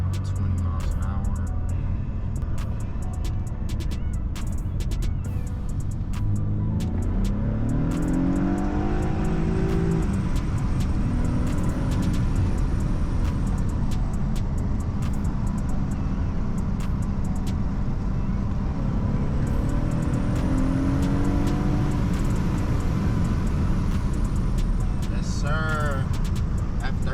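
BMW F30 sedan driving and accelerating, a steady interior engine and road hum with rising revs in two sweeping pulls, a close and continuous drone with sporadic clicks and some talk over it.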